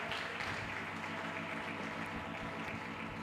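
Sustained congregation applause during an evening church meeting, a steady dense wash of many hands clapping heard from a distance, with no voices above it.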